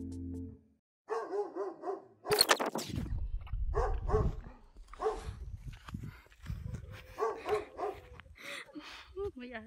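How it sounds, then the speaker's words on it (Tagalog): A dog barks several times in short, sharp bursts outdoors at a scenic spot in Alicia, Bohol, close and loud, with people talking around and between the barks. "May aso."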